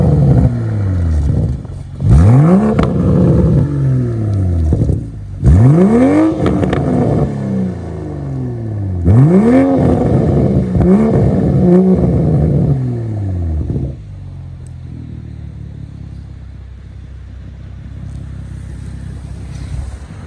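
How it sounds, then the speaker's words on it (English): A 2023 Toyota Supra 3.0 engine revs hard several times in sharp, rising bursts close up, then settles to a low idle rumble. "Y'all want to hear me rev this thing up?"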